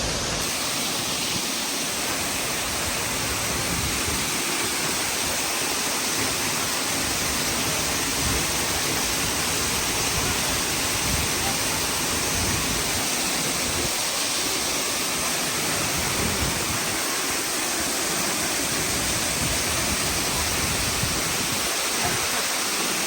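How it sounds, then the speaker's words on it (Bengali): A mountain waterfall in the Ayodhya Hills roars continuously and loudly, a dense unbroken rush of falling water with no voices. "এটা হলো অযোধ্যা পাহাড়ি ঝর্ণা।"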